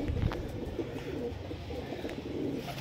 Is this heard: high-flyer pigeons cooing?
yes